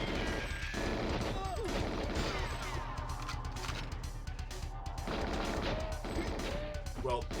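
Gunfire and crashing impacts from the N64 video game Goldeneye 007, with repeated bursts of shots layered over constant loud game music and effects, fairly busy and steady throughout.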